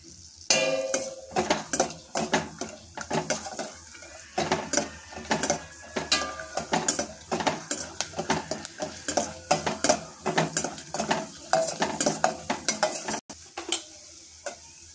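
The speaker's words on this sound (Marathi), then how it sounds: "आता तुपामध्ये बदाम आणि काजू घालून घेऊया" Almonds and cashews fry in hot ghee for sweet potato kheer, with a steady crackle broken by many sharp clinks and scrapes of a spoon stirring against the pan.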